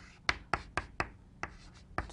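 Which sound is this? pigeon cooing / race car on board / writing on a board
writing on a board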